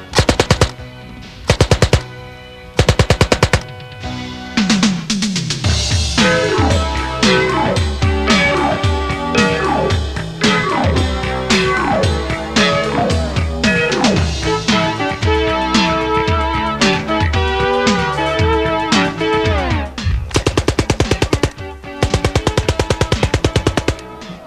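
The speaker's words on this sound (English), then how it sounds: "It's available with a choice of either 20, 32, or 50 round box magazines, and fires at 500 rounds per minute" An MP-28 submachine gun, fed from a 20, 32 or 50 round box magazine, fires at about 500 rounds per minute in short bursts, backed by loud, steady, dense sound throughout.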